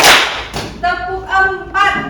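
A class of young schoolchildren claps a rhythmic pattern, a sharp burst of hand claps up front followed by children's voices calling out in short pitched bursts.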